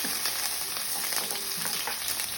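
Garlic and onion sauté in oil in a non-stick pan, a loud, dense, continuous sizzle that holds steady throughout at close range.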